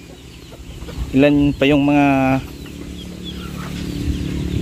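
Rhode Island Red chickens give one loud, drawn-out harmonic call in two quick bursts over a farmyard background, with a person speaking nearby.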